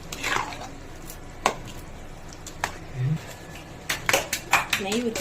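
Sambar rice being stirred with ghee in a pot, likely with a metal spoon, before packing a lunch box: soft scraping and clinking strokes, close and fairly quiet, come in irregular bursts with a brief voice near the middle.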